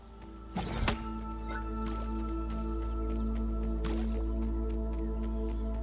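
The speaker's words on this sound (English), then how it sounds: "2 drinks of water." Drinking water in the video game Grounded 2: a couple of short wet gulping splashes, the first louder near the start and a second later, over a steady low game ambience hum.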